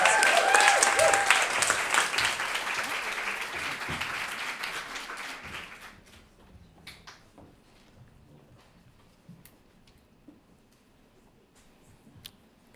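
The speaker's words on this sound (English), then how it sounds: "let's give them a round of applause" An indoor audience at a sound design talk applauds loudly to welcome speakers to the stage, the clapping dense for several seconds before thinning to scattered claps and fading into quiet room noise.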